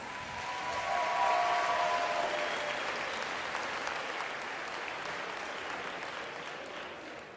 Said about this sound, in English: Put your hands together for the 8 Miss Gibraltar contestants and Rafa Blas.